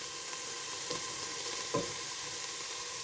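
Minced meat with mixed herbs sizzles steadily in a pan as it cooks gently, a continuous close frying hiss with a couple of soft stirring scrapes and no talking.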